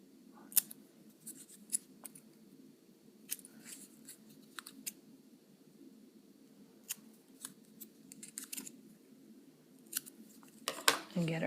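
Scissors snip through old book pages at an angle for paper earrings, giving quiet, scattered crisp cuts in irregular bursts against a faint room background, with a few closer louder snips near the end.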